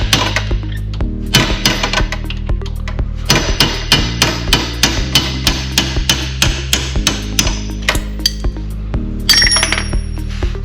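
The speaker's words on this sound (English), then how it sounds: "Now with the hammer and the punch, you have to remove the little cotter pin" A hammer drives a punch against a cotter pin between the shift linkage and transmission shifter on a 1999 Honda Civic Si, with a rapid series of sharp metallic knocks that turn ringing, close and loud, with no talking.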